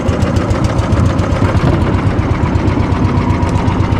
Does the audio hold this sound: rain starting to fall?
no